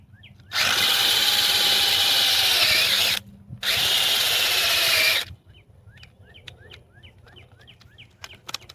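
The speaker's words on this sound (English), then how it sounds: "I'm using the bigger drill bit today to do that with" A power drill with a large bit whirs loudly for several seconds drilling a hole, stops briefly, then runs again before cutting off; faint birdsong follows in the quiet.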